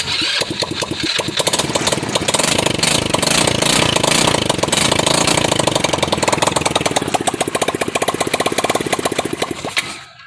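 Small Crossfire 150R motorcycle engine, running without a muffler, fires up and runs loud and raspy right up close, holding a busy uneven idle with little variation for about ten seconds before cutting off.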